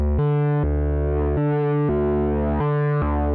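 An Omnisphere guitar-style synth lead run through a stomp box and flame distortion plays a repeating pattern of thick, buzzy sustained notes, loud and continuous with a gritty, saturated edge.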